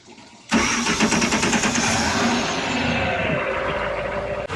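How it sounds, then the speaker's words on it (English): A marine inboard boat engine cranks and fires abruptly, then settles into a loud, steady idle with a rapid rhythmic pulse running to the end. "I'm going to turn the engine back on."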